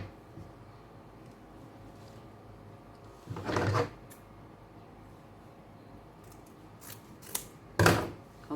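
Scissors cutting through folded satin fabric in two separate bursts of close, crisp snipping, with quiet pauses between them.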